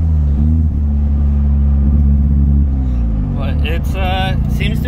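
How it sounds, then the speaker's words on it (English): A car engine idling roughly after new fuel injectors were fitted, a loud low rumbling drone with uneven tone. A voice comes in over it toward the end. "Don't mind the car is running like crap. Because I got new injectors in this thing."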